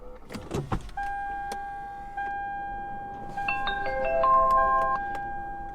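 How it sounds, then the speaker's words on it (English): A car is switched on: a few clicks and a motor whir, then a series of electronic beeps and chime tones sound one after another in a quiet cabin, with no talking. "I'm gonna go ahead and turn the car on."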